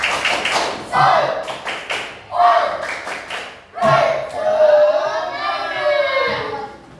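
Students in a classroom perform a rhythmic spirit clap chant, sharp hand claps in counted bursts alternating with shouted group chanting, near and lively.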